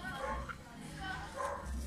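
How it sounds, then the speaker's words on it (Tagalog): Several dogs bark and yip at a distance behind someone talking while she eats dalandan oranges, the barking coming in scattered short bursts beneath her voice. "background music yung mga aso"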